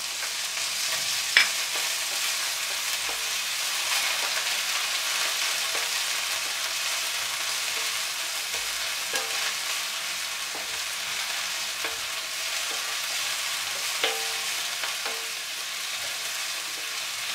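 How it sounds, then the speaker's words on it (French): Onions and bell peppers fry in a pan for meatballs with pumpkin, giving a steady loud sizzle throughout, broken by occasional scrapes and clicks of a utensil stirring. "Quand vous avez ajouté les oignons, vous ajoutez directement les poivrons."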